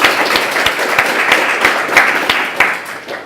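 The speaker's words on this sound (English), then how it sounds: "let's give him a round of applause for" An audience claps steadily through a school awards ceremony, honoring a student; dense, sustained applause with sharp individual claps standing out, fairly close and loud throughout.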